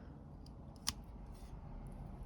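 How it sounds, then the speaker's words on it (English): A single quick snip of shears trimming a sawtooth oak seedling, one brief crisp click over quiet background hiss. "So I'm going to be a little bit more conservative on this one and trim it right here"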